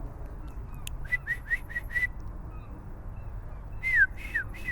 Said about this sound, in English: There's a bunch of birds up there. Oh, let's listen.